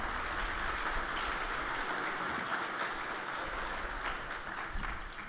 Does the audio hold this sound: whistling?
no